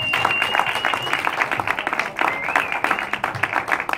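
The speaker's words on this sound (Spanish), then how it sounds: "Así que yo quiero pedir un aplauso para ellos." Audience clapping at a film event for Los Leones, uneven and fluttering with distinct hand strikes and a faint tonal whine running through, moderately loud.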